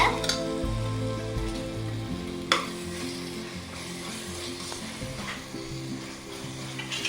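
Onions and spices fry for a Bai Kadai-style chicken dum biryani, sizzling steadily at moderate volume, with a couple of sharp utensil clinks against the pot.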